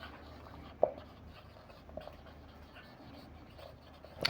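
Writing on a board during a physics lecture on alternating current, with faint scratchy marker or chalk strokes, a sharp tap near the start and a few more soft knocks over low room noise.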